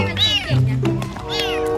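A lost kitten meows several times in a row, close and fairly loud, with rising and falling cries while people talk nearby.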